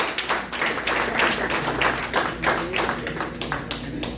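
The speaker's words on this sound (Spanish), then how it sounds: "Si le va a dar un aplauso, déselo fuerte al Señor" A church congregation at a Sunday service claps loudly, a dense run of hand claps that fills the room, near and sustained.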